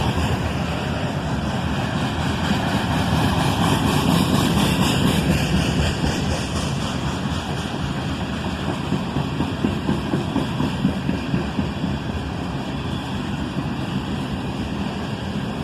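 A loaded CSX K-182 iron ore freight train, led by an ET-44AH locomotive, rolls southbound into a siding as a steady, close, heavy rumble of engine and wheels that holds level throughout without voices.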